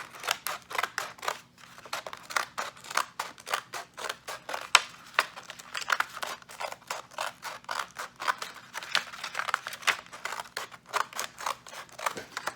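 Scissors snip steadily around a traced outline on a ring toss ring, a dense run of close, crisp cuts in quick rhythm with brief pauses, no talking.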